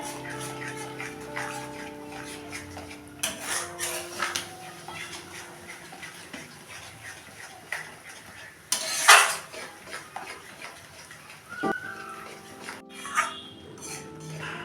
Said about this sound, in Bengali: এর মধ্যে 4 চামচ টক দই আছে। আমি একটু কষতে দেবো এটা।